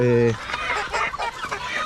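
Chickens cluck in short, overlapping bursts nearby, following a brief voiced sound at the start.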